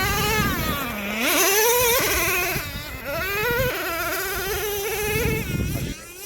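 A freshly rebuilt Traxxas Revo 3.3 nitro RC truck off-road, its small engine screaming loud and close, pitch rising and dipping through repeated revs and throttle changes across the whole stretch.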